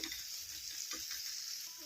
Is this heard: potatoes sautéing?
yes